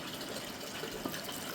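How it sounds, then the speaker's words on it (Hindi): Water pouring steadily into a drink as it is being prepared, a faint, continuous trickling gush with no talk over it. "ये पानी ऐड करूँगी।"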